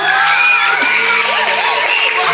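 Loud, steady crowd applause and cheering from the audience at a Balinese Calonarang performance at a temple, a dense continuous wash of clapping with a few shouts.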